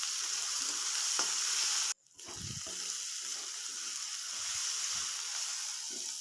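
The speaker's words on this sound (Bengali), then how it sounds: "দিয়ে ভালোভাবে ভেজে নেব যাতে রসুনের কাঁচা গন্ধটা চলে যায়" Onion and garlic paste fries in a hot pan with a continuous, close hiss and sizzle, briefly cut off by a stir before the crackling returns evenly, with no speech over it.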